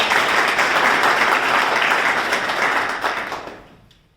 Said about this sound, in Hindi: आप सभी लोगों की तालियों से मैं चाहता हूं स्वागत किया जाए।